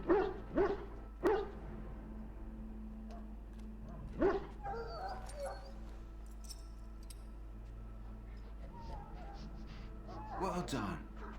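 A dog in the Dragon Age Origins video game barks and whimpers in short yips and whines, several bursts near the start and again near the end, over a low steady hum.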